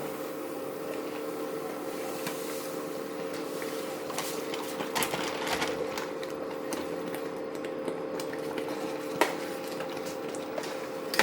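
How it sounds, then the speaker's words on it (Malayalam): Semolina (rava) stirred in a pan while cooking upma: faint, scattered scrapes and light clicks of a utensil against metal, irregular and soft, over a steady low hum from the stove or kitchen. "റവ ഇടുമ്പോൾ ഇളക്കിക്കൊണ്ടേ ഇരിക്കണം കേട്ടോ"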